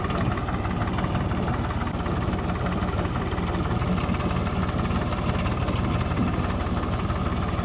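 A tractor engine runs steadily in a potato field, a loud, continuous low rumble with a constant idling throb and no breaks or talk.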